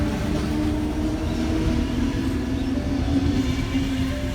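A Sydney train, set T109, passes through Erskineville station at weekday peak hour without stopping, with a steady loud rumble and continuous wheel noise throughout.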